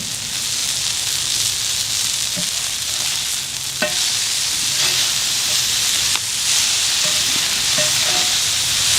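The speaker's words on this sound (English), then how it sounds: "we're simply just going to place them on this griddle and we're going to press them out about 1/3 of an inch thick" Burger patties pressed thin on a hot griddle sizzle loudly and steadily, a dense close hiss with occasional scrapes and taps of a spatula against the metal, no voices.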